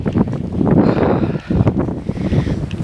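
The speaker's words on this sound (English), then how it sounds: "It's really windy, you probably can't even hear me." Strong wind buffets the microphone outdoors in a brushy field of grass, weeds and thorn bushes, a loud continuous roar with gusty low rumble throughout, briefly easing before surging again.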